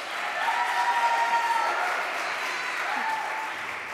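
Audience applause at a winter piano concert fills the hall with a steady, dense clatter of many hands clapping. It holds at full strength for about four seconds before easing slightly at the end.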